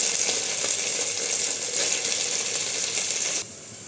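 Onions fry with ginger garlic paste and green chillies in a pan for restaurant-style chilli chicken, giving a steady bright sizzle with light stirring that quiets abruptly near the end.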